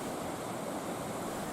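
High ocean waves up to three meters crashing on the shore at Binaloka beach in Merauke, a continuous broadband roar of surf, steady and fairly close with no voices.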